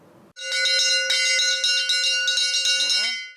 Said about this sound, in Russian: Звучит звуковой сигнал, а это значит,